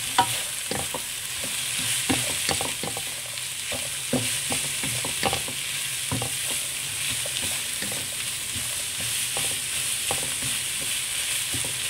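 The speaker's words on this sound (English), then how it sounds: "So I'm going to let this cook till the vegetables have softened." Vegetables sautéing for bee hoon goreng, a steady pan sizzle broken by frequent scrapes and clacks of stirring, close and even throughout with no talking.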